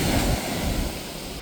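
Ocean surf and waves rolling at an open water swim, a loud, continuous wash of broadband noise with wind buffeting the microphone and no talking.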